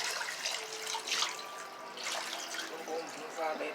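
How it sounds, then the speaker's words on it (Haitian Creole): More water is poured into a cooking pot of dried beans, a quiet splashing trickle with soft speech over it. "Mettons notre petit de l'eau encore là-dedans."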